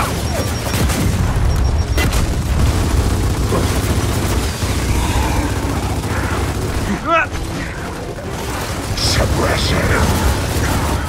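Frag grenades detonate amid combat in Gears of War 4, heavy booms and crackling blasts layered over dense gunfire and mechanical din, loud and continuous, with shouted voices in the mix.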